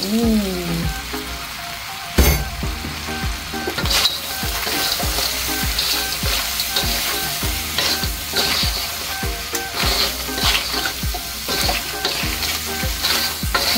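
Shrimp and crab sizzle steadily as they fry in a hot pan, with a utensil stirring and scraping through them in repeated strokes, close and continuous with no talk.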